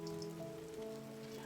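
Faint, steady rain patters on a surface, heard at a distance under a quiet sustained musical tone.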